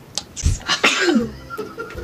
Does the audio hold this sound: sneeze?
yes